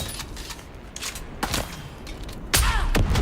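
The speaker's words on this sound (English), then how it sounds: "Tossing grenades" Grenades tossed and bursting in the Dune: Awakening video game, several sharp blasts landing about a second apart, the last one loudest and closest, with gunfire-like crackle mixed in.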